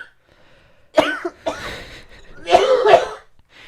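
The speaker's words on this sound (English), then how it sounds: "I literally wasn't even drinking anything, and I just started coughing" Coughing right after a big bong hit: a burst of harsh, close coughs around the one-second mark, a short pause, then a second louder cluster of hacking coughs before fading to quiet.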